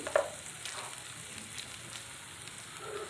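Cauliflower frying in a pan with salt, turmeric and chili powder, a faint steady sizzle with soft stirring strokes and one small clink at the start.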